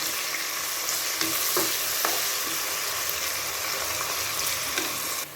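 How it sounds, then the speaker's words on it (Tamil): Onions and green chillies sauté in a pan for tomato rice, giving a constant, close frying sizzle broken by a few light clicks and scrapes from stirring. "வெங்காயம் வதங்கும் போதே இஞ்சி பூண்டு பேஸ்ட்டு நம்ம சேர்த்துக்கணும்"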